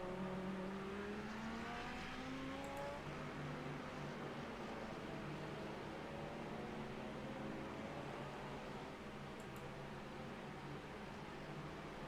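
GT3 race cars, among them a Lamborghini, circle the Fuji circuit, heard as a steady, fairly faint engine drone with rising and falling pitch sweeps as cars pass at a distance, continuous and without talk.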